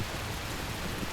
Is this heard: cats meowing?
no